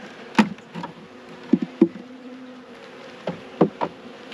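Robber bees in a ripped-open honeycomb give a low, continuous buzz close by, broken by sharp louder passes as single bees fly near.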